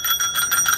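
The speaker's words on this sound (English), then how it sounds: "ring your bell" A bicycle bell on a scooter rings in quick succession, four or five bright metallic dings in rapid rhythm, close and clear, with no talking.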